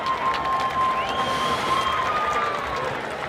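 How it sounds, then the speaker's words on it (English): A live crowd at an outdoor Key West fight night during Conch Republic Days claps and cheers in a dense, continuous wash, with a thin whistle-like tone rising above it. "Give a round of applause, please"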